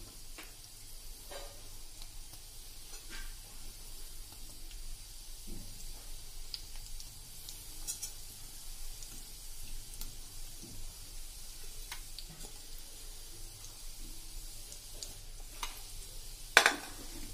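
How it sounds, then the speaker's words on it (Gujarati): Gulab jamun balls fry in oil in a pan with a soft, steady sizzle, faint and close, broken by occasional light clicks of utensils and one brief clatter near the end. "હવે આપણે બીજી બેચ તરશું."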